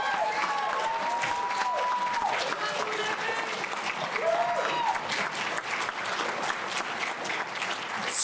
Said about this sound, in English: Let's give a round of applause one more time for all our presenters that we had up here.